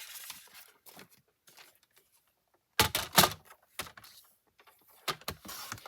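Paper is trimmed for a scrapbook page in a few short, crisp bursts of cutting and sliding, close and fairly quiet, with gaps of near silence between strokes.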